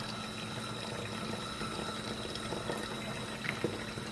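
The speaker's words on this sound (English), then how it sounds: "I should have turned off the water at the sink" A sink tap runs steadily, a constant hissing, rushing flow of water with a few faint clinks nearby and no one talking.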